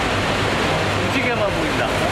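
Niagara Falls roars from directly below, a dense, steady wash of falling water filling the air without pause over a couple of seconds.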